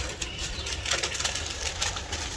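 Pigeons coo on a rooftop, soft repeated throaty calls under a steady low background hum.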